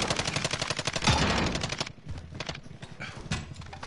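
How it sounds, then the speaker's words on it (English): Rapid gunfire in the video game Warzone, with dense bursts of shots during the first two seconds, then scattered, fainter pops and game noise. "he's shooting at me"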